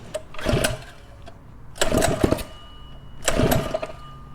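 A Predator 212 mini bike engine with a PWK 28 carburetor cranks in three separate bursts of rough, sputtering churning, each about a second long with brief quiet gaps between, close and loud.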